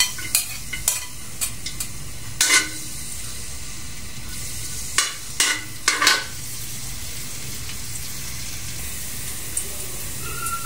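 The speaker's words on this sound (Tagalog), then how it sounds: "Pagkatapos, painitin lang natin to ng konti, tapos isusunod na natin yung ating bawang." Oil heating in a pan for Filipino ginataang kalabasa at sitaw, a steady low sizzle and hiss running throughout with several sharp clatters of utensils against the pan scattered across the clip, no talking.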